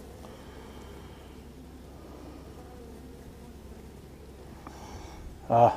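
Honeybees buzzing around an open beehive during an inspection, a low continuous drone close to the listener, with a brief louder rustle near the end.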